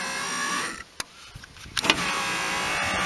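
An electric window motor in a Toyota Carina E barn find whirs steadily as the glass moves, interrupted by a few sharp clicks and clunks, close and fairly quiet with no talk.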